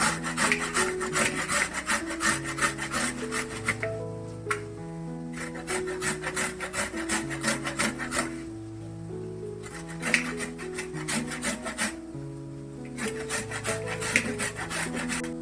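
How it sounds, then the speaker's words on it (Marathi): Raw mango is rubbed against the fine side of a hand grater, giving a continuous rasping scrape in rapid, regular strokes, close up, with melodic music playing underneath. "बारीक साईडने आपल्याला किसून घ्यायचं। तर कैरीचं आपण किसून घेऊया।"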